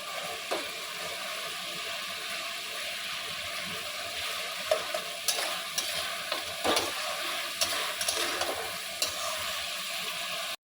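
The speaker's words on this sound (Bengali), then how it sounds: "মাছের মাথাগুলো যখন কষাচ্ছি একটু ভেঙে দেবো মাথাগুলো" Fish heads being sautéed and stirred in spice paste in a pan, a steady close sizzle broken by scraping stir strokes and occasional clicks of the spoon.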